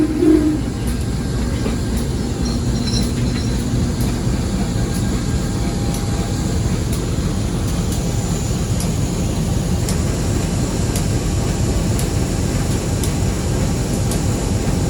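KA Komuter Penataran service locomotive on an Indonesian commuter train runs with a steady, loud rumble and faint rhythmic clatter of wheels on rails, continuous throughout with no talking.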